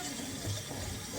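Steady rush of water running from a tap while rice is washed at a kitchen sink, continuous and fairly close with no talk.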